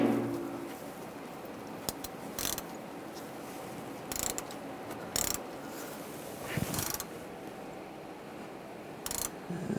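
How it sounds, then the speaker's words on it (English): A 10 mm hex socket wrench loosens the drain plug on an AC condenser of a 2011-2018 Ram 1500, giving a few brief, sharp metallic clicks and ratchet ticks spaced apart against a quiet background. "I'm going to use a hex socket, a 10 millimeter."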